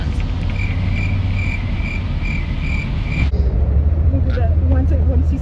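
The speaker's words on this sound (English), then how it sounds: "Insert cricket sounds." A cricket chirps in a steady, evenly spaced rhythm over a low bus engine hum, then falls silent partway through as the rumble continues.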